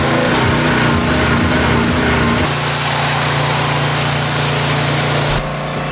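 Drenched pressure washer running rough and loud, its engine note wavering and then changing abruptly partway through before dropping again near the end, close up with no talk.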